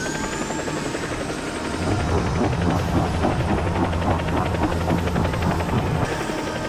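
Helicopter rotor chopping steadily above a sinking ship in a disaster film, loud and close throughout, with a droning engine whine underneath and no talk over it.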